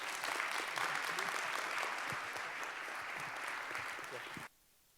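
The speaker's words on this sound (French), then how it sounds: "Un tonnerre d'applaudissements, s'il vous plaît." A lecture audience at the École Polytechnique gives sustained, full applause that holds steady for several seconds and then stops abruptly into near silence.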